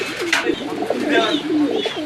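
A male Rajgolla pigeon coos close by in a deep, rolling, repeated call with a slightly throaty warble, continuous over a couple of seconds.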